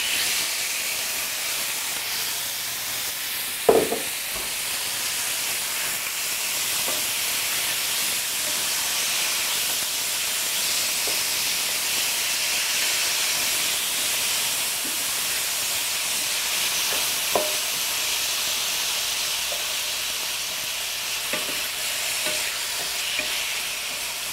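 Pork hits a hot stir-fry pan and fries with a steady, even sizzle and hiss that carries on throughout. There are a few faint clinks and scrapes of utensils, and no talking.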